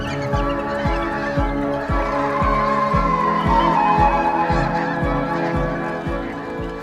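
A large gathering of waterfowl honks loudly and continuously at close range. Dense overlapping calls are punctuated by a regular series of deep repeated honks.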